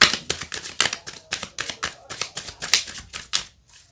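A deck of tarot cards is shuffled and drawn by hand, making a quick run of crisp, close riffling clicks and snaps that fades out at the end, with no talk.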